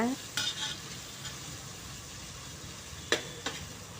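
Salted onions sautéing in a pan for paneer biryani, a soft steady sizzle with a few sharp scrapes of a spoon stirring them, close and fairly quiet.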